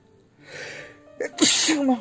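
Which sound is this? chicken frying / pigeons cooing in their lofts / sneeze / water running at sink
sneeze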